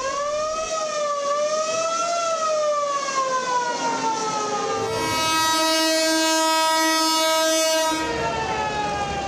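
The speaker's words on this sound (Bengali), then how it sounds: "যাত্রীতে ঠাসা বগি আর ডেক ভর্তি মানুষ নিয়ে বাড়ির পানে ছুটছে ট্রেন ও লঞ্চ।" Crowded passenger train carrying Eid travellers in Bangladesh, its horn blaring in long, loud, sustained tones that bend in pitch, then a brighter, harsher blast, over a steady rail rumble.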